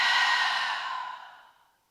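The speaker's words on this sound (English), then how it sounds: "Open your mouth, gently exhale it out." A long, breathy exhale through an open mouth, close and clear, fading steadily to silence over about two seconds during a guided breathing practice.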